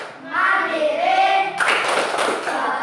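Students in a classroom chant together, then break into a dense run of rhythmic group clapping for the PPK clap, loud and close with voices continuing beneath.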